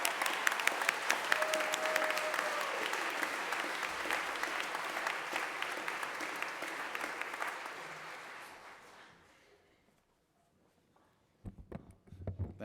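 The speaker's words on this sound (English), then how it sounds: "So Benita, Isaac, and Carrie, please stand and take a round of applause from us." A round of applause from a chapel congregation, lively clapping that gradually fades out around nine seconds, followed by near silence and then some shuffling and movement.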